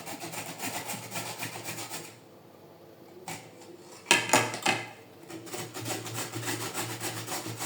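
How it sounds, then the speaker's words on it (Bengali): Carrots are grated by hand on the fine side of a grater for carrot halua, a rhythmic rasping scrape repeating in quick strokes, pausing briefly midway before resuming close and clear. "এই যে গাজরগুলো পুরো গ্রেট করা শেষ"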